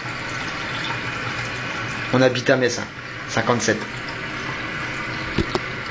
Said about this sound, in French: Une casserole qui se remplit de l'eau du robinet